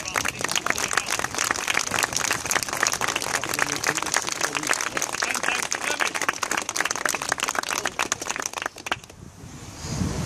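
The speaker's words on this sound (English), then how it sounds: "can you give us, you lot, a round of applause?" Dense, continuous crowd clapping at a charity ride, loud and crackly for about nine seconds before thinning out near the end.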